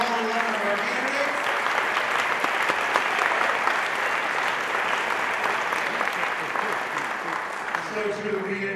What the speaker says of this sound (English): Let's give a big round of applause for all 11 of our candidates.